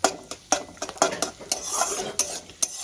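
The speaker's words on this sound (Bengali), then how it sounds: "ফোড়নটা আমি একটু ভেজে নেব" Cinnamon and cardamom tempering fried in a little white oil, quick repeated clinks and scrapes of a spoon against the pot over a light sizzle, close and lively.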